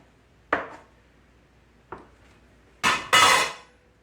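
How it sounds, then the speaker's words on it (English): A pastry knife cuts through bagel dough on a board, giving four short knocks with pauses between, the last two louder and close together; no one talks. "I'm just going to cut the dough in half"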